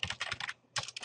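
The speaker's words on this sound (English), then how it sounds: "What the heck am I typing?" Quick bursts of clicky keystrokes on a computer keyboard, several rapid taps, a short pause, then another flurry, close and crisp with no voices.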